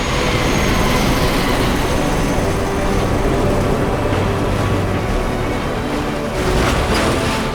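A helicopter's loud, steady rotor and engine roar fills a Call of Duty Modern Warfare 3 campaign battle scene, droning continuously with no voices over it.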